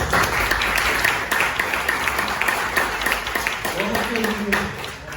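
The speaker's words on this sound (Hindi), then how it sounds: "स्टाफ के लिए एक बार तालियां लगा दीजिए" An audience at a celebration lunch gathering in a hotel claps for the hotel staff, a dense wash of applause throughout, with a brief tonal voice or hum near the end.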